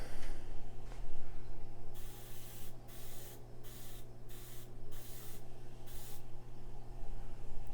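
Short rapid bursts of aerosol spray paint put a grime finish on a toy lightsaber, several quick close hisses in a row over a low steady hum, with no talking.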